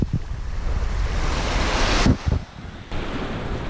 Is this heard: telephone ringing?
no